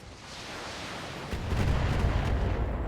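Enemy mechs firing in the video game BattleTech: a dense, continuous roar of gunfire and blasts that swells louder after the first moments and holds steady, with no talk.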